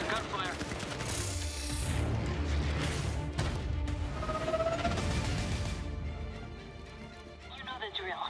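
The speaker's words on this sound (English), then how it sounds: "I got gunfire." Rapid video game gunfire bursts and impacts during a breaching assault, loud and dense for several seconds amid clattering effects, with voices talking over the action.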